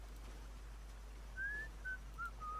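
Someone in the stealth game Shadow Tactics: Blades of Shogun whistles a few short, thin notes, the first one rising, then brief repeated tones over a low steady hum.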